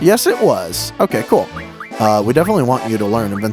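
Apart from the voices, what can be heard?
No distinct noise like a dog, phone or traffic.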